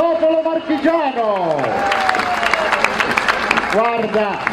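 A crowd applauds at an outdoor grape-stomping festival in the Marche, with steady clapping and cheering building under a sung or spoken voice that dips and glides across the scene.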